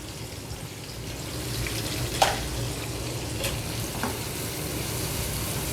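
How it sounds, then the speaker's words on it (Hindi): Finely chopped onions frying in leftover fish-frying oil in a kadhai, a steady loud sizzle with a few faint clinks of stirring. "प्याज का कलर चेंज होने तक हम इसको इसी ऑयल में फ्राई करेंगे।"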